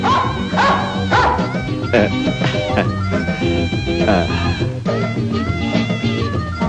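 Dogs bark, yip and whimper repeatedly at close range amid a busy din, with people talking over the noise.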